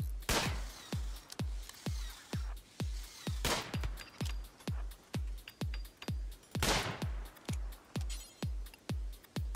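Gunfire in the video game RimWorld, a rapid series of sharp shots in an even rhythm with a few louder blasts mixed in, close and clear with no talking.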